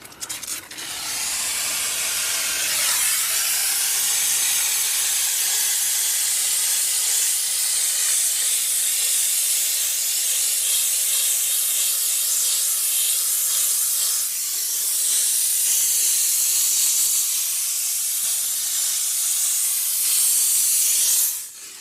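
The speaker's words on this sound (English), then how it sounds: "Add some steam, a little bit of fabric cleaner." A steam cleaner hisses loudly and continuously at close range while cleaning the fabric interior of a first-generation Ford Raptor, a harsh spraying rush with brief dips before it cuts off at the end.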